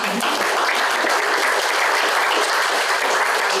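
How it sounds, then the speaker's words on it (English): A crowd at an apartment building ribbon cutting applauds in a steady, dense burst of clapping that stays loud and even throughout, with no voices standing out. "So again, let me give you a round of applause."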